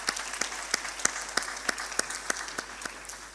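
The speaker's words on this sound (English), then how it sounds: "let's give the big applause to our panelists" Applause for panelists at an urban forum session in Azerbaijan, a moderate crowd clapping in a lively patter marked by sharp, distinct individual claps that pop out regularly above the steady wash.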